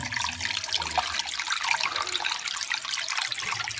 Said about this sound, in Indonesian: Nah ini sungainya gemericik ke bawah sana.